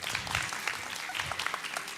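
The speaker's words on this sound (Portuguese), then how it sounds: "Salva de palmas aí para Rogerson." An audience claps steadily and briskly for a speaker at a talk on oratory and sales, with the applause filling the moment and faint voices underneath.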